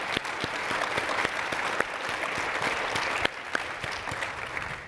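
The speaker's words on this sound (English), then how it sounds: "I'd like a round of applause for our presenters." Audience applause after presentations at a clinician well-being conference session, a steady patter of many hands clapping with sharp individual claps standing out, continuous for about five seconds at moderate level.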